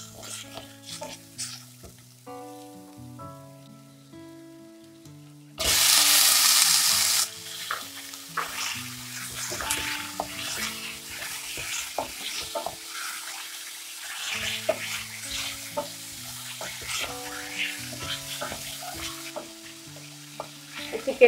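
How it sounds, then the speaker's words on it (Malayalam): Chicken pieces frying in a pan are stirred with a utensil through a long, close stretch of sizzling and scraping, opening with a quiet passage, then a sudden loud hiss, then steady clattering stirs. "ചിക്കൻ്റെ ഉള്ള വെള്ളമൊക്കെ ഒന്ന് വറ്റുന്ന വരെ ഒന്ന് ഇളക്കിക്കൊണ്ടിരിക്കും"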